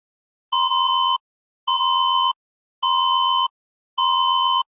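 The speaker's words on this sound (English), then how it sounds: "If there is a leak in the gas in your house, the bot detects it and gives you the signal." Homemade robot's gas leak detector sounds its alarm: four evenly spaced, loud electronic beeps, each about half a second long, separated by silence.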